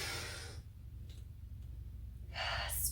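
Deep breath drawn in during a yoga session, a broad airy inhale up close at the start, then quiet, then a second rushing breath near the end.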